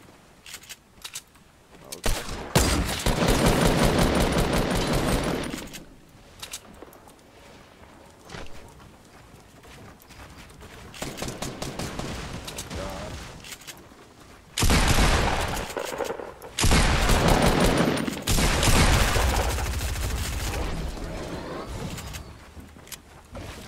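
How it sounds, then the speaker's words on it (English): Gunfire during a Fortnite fight, bursts of rapid shots arriving in loud clusters separated by quieter gaps, with no talk over the shooting. "they trying to shoot me."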